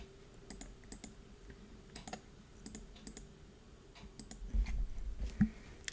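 Faint, scattered key taps on a computer keyboard, arriving in small irregular clusters with brief gaps between them.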